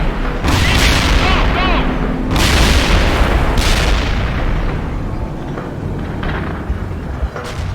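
Tank and artillery gunfire booming in a World in Conflict battle: repeated heavy blasts with long rumbling tails, loud and dense, over a continuous roar of combat and faint voices.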